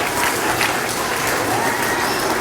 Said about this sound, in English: So let's give a round of applause for all of our staff.